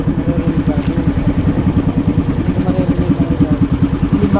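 A boat engine runs nearby with a loud, rapid, even chugging pulse that holds steady throughout, no voices over it.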